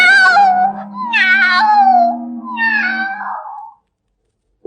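Cat caterwauling on a children's story record: three drawn-out, wavering yowls in a row, loud and close, ending in silence.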